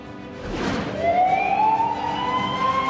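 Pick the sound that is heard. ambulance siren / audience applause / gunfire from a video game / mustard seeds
ambulance siren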